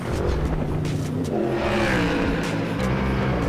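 A Ford Mustang GT race car drives on the Barcelona circuit, its engine roaring and revving loud and close in a short continuous burst.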